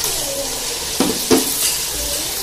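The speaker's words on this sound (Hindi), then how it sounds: "अब इसका मसाला भूनेंगे, अब इसमें डालेंगे सबसे पहले टमाटर" Tomatoes dropped into a pan of goat meat masala with softened onions, frying with a steady close sizzle, a couple of sharp splashy bursts as pieces hit the hot oil, then continued crackling.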